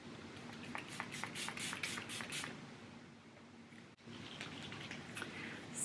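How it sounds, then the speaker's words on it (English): Makeup setting spray misted from a pump bottle: a run of quick hissing spritzes in a row, close and fairly soft, followed by a steadier fine hiss. "such a great setting spray"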